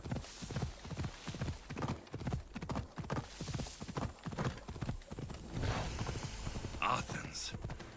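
Horse hooves clip-clop in steady rhythm as a mount gallops through Assassin's Creed Odyssey, near and fairly loud, with a brief whinny late in the run and faint background game sounds.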